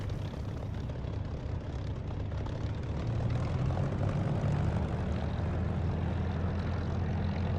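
A propeller aircraft engine in the flight simulator game DCS runs on the ground at a steady throttle around 1300 to 1400 RPM, a loud continuous droning hum that swells slightly midway, with no voices.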